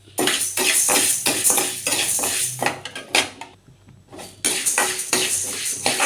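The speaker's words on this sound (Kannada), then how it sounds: "ಈ ಥರ ಹುಳ್ಳಿಕಾಳು ಹುರಿಬೇಕು" Horse gram is being dry-roasted in a pan while a metal spoon stirs it, making repeated loud scraping and clinking strokes in bursts with a brief pause in the middle.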